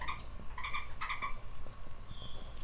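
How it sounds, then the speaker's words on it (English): Frog croaking in a survival garden, a run of short raspy calls in quick bursts over the first second and a half, fairly close against steady low background hum, then a thin tonal note near the end. "That's a frog"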